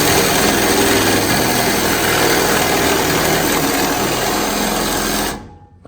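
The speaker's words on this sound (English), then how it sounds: "You got to let it bite and slowly do the work and drill its way through." A steady, loud mechanical whir of a power drill running continuously as it drills through a garage door end bearing plate, cutting off abruptly near the end.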